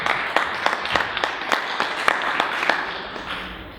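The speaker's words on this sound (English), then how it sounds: "Round of applause." An audience at a summit in the Hilton Sandton claps in a brisk, scattered round of applause that gradually thins out toward the end.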